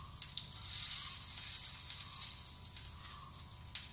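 Whole cumin seeds dropped into hot oil for a Bengali suji upma, a steady, bright sizzle that holds close and loud with a few small pops and no talk.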